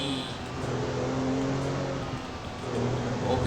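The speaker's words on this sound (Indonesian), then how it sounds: "Oh, kencang juga mobil Audi ini ya." An Audi in GTA V races along at speed, a steady engine drone and road whir holding throughout with a slight rise near the end, with faint talk underneath.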